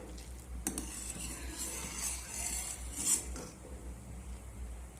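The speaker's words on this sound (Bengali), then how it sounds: "এই সময় আমি একটু অনবরত নাড়াচাড়া করে নেব।" Thickening milk boils in a pot while being stirred continuously, giving a soft, steady scraping and bubbling with faint metallic utensil touches, fairly quiet and without talk.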